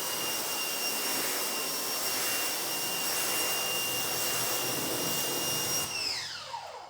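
A strong, steady hiss of water spray rinses a car coating test panel up close, holding constant before cutting off near the end and leaving a fading whine.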